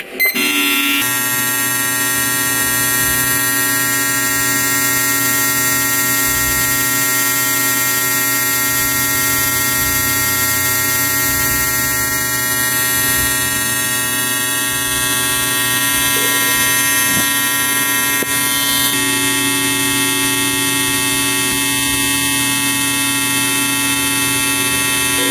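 An injector tester and cleaner machine runs at high speed, 10,000 RPM, giving a steady, loud electrical hum and buzz with constant tonal overtones, unbroken and with no talking.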